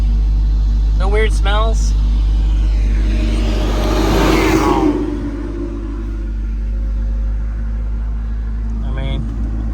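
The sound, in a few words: Volvo 242 Turbo engine idling roughly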